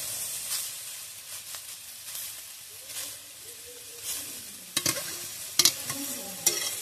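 Potatoes and gima greens stirred in a hot pan, a soft continuous sizzle and hiss with a spatula scraping through, then a few sharper clanks against the pan near the end, close and without speech.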